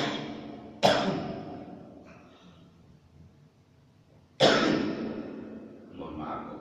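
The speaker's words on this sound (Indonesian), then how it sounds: "mohon maaf kok batuk" Two sharp, loud coughs a few seconds apart, each trailing off with breathy rasp, from someone speaking indoors, with quieter throat sounds between them.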